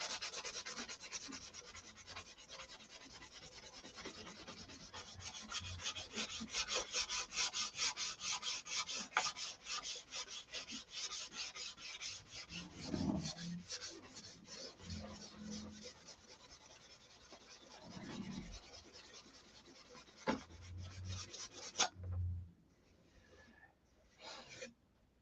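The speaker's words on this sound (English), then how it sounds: "put it on and sand it off" Steady rasping strokes of sandpaper over filler on the fuselage of a SIG Magnum model airplane, a close, continuous rubbing rhythm that pauses briefly near the end.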